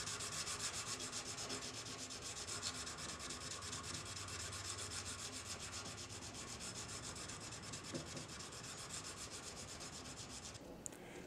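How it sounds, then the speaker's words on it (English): A high carbon steel knife blade is hand sanded with steady, continuous abrasive rubbing that sounds faint and even throughout, with no talking. "Once I'm done hand sanding the knives"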